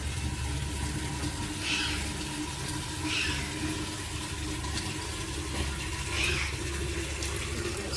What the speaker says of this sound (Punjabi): ਪਾਣੀ ਆਪਾਂ ਪਾਤਾ